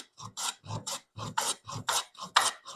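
Stanley No. 40 scrub plane taking deep cuts across the grain of a rough-sawn wooden board, a series of about ten loud, close rasping strokes in steady rhythm, each a short scraping burst.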